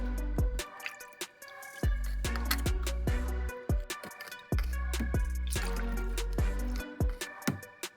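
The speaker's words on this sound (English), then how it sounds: "let's pour pure distilled water for rinsing," Distilled water is poured into the cells of a dead car battery for rinsing, giving an irregular run of close, wet dripping and splashing sounds with short gaps and uneven pours.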